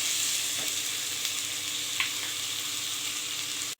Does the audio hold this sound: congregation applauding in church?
no